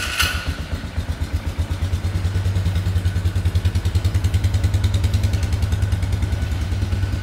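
An ATV engine that had been under repair runs steadily at a fast, even idle, loud and close, with a rapid rhythmic exhaust chug and some mechanical clatter and no speech.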